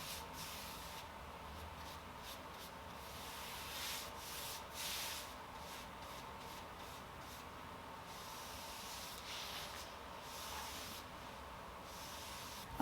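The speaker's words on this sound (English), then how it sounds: "I end up sanding in between coats" Soft, steady rubbing and scraping of sandpaper on furniture between coats of polyurethane finish, repeated strokes with a hissy texture, quiet and close, no voices.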